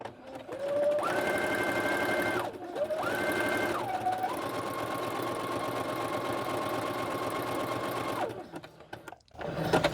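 A sewing machine stitches through a paper greeting card in long, steady runs of rapid whirring that shift in pitch as the speed changes, pausing briefly between runs before stopping near the end, loud and close.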